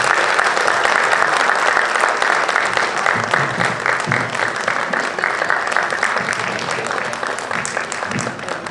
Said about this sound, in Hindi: आपकी तालियां बंद नहीं होनी चाहिए